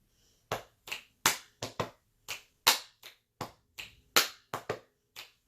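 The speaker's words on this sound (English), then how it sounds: "a body percussion piece called Boom, Snap, Clap" A body percussion pattern of stomps, finger snaps and hand claps plays alone, about fourteen sharp, crisp hits in a steady repeating rhythm, close and clear.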